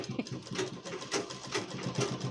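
A household sewing machine whirs in a room at home, a close, uneven mechanical buzz that pulses and varies in speed over a couple of seconds, with no speech.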